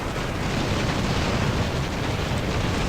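Artillery barrage explosions in the Titanfall Assault video game, heard as a continuous loud, dense rumbling roar with no distinct separate blasts, steady throughout.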